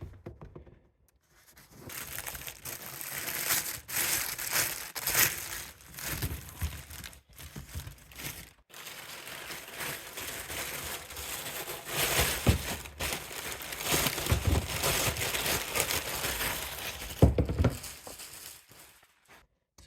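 Thick plastic wrapping is crinkled and torn off a rubber bed mat for a 2024 Polaris Ranger, with steady rustling and crumpling that rises and falls over several seconds, punctuated by brief pauses, close to the listener and with no talking.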